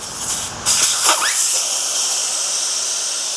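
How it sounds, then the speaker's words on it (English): Compressed air rushes from a KTM adventure bike tire as its valve core is pulled, a loud close hiss that starts abruptly, then settles into a steady, slowly fading stream in a garage. "then we're gonna use a valve core removal tool to remove the valve core"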